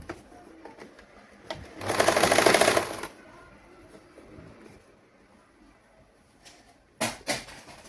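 A sewing machine stitches a saree blouse in a single burst of about a second, loud and close, with quiet handling noises before and a couple of sharp clicks after.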